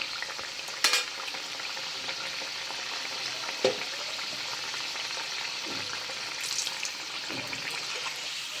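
Aloo patties fry in hot oil with a continuous bright crackle. Several distinct scrapes and clacks break through as the patties are turned over in the pan.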